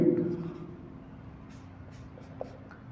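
Writing on paper during a physics lesson: soft, faint scratching and tapping strokes close by under a low room hum, with a brief louder tap toward the end.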